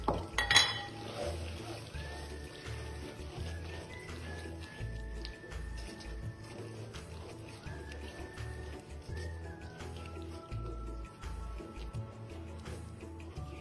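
Crushed peanuts stirred into melted coconut sugar in a pan on low heat, with soft clinks of a utensil against the pan and gentle sticky scraping under a low background hum.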